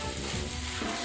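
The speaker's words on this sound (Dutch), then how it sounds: "Ik roer het dan weer even door. Zodat die bloem met de boter een roervorm kan klaren." A roux of flour and butter for a Flemish beef stew cooks in a pan, a dense, close, continuous sizzle with a brief stir through it.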